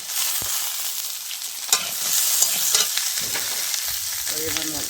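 Eggplant and a few chillies fry in a pan, a steady close sizzle with occasional stirring scrapes and crackles throughout.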